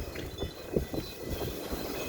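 Steady wind buffets the microphone with low rumbling gusts, continuous and fairly loud, with no voices.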